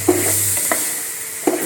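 Rice is fried and stirred in coconut oil with whole spices for chicken biryani, a steady close sizzle broken by a few sharp scrapes of the spoon against the pan.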